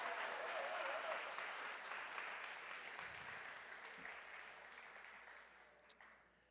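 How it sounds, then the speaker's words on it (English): At an awards ceremony, an audience claps in a steady, full round of applause that gradually tapers off, with a few faint sounds over the clapping. "He still deserves a big round of applause for Miguel Gonzalez."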